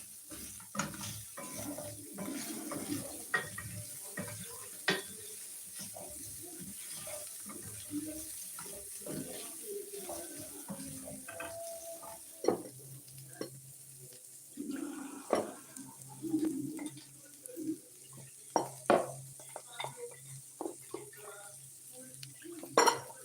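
Water running from a tap into a cooking pot holding beef and carrots, a steady faint trickle mixed with intermittent clinks and knocks of pots and utensils in a home kitchen.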